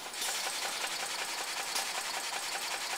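A honing machine running at higher spindle speed: a dense, steady mechanical buzz with rapid fluttering texture, close and continuous for a few seconds.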